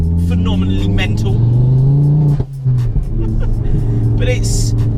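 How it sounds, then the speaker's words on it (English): A Ford Focus RS MK2 exhaust revs loudly nearby, the engine note climbing and holding, then dropping briefly before rising again, with someone talking over it. "The exhaust is phenomenally mental."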